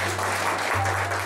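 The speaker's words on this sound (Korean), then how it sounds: "큰 박수" Applause from an audience at an evening lecture on Korean spring orchids, a dense steady patter of many hands filling the short moment, with a low steady hum running beneath it.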